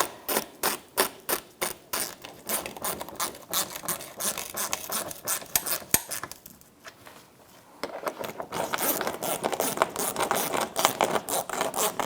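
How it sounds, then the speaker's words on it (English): A ratchet with an 8mm socket tightens the splash shield bolts on a 2005-2010 Chrysler 300, giving rapid rhythmic clicking bursts, a short pause, then more fast ratcheting close by. "Lock it using an 8mm socket. I'm going to tighten these up."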